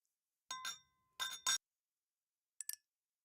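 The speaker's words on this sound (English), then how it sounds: "Let's just try clink instead rather than glass clink" Three separate clink sound effects tested during game development: two bright glassy double clinks close together, then a shorter, fainter clink after a pause, with silence between.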